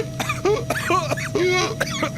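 A voice imitates a series of raspy, halting coughs and throat-clearing sounds, close and loud, in short uneven bursts.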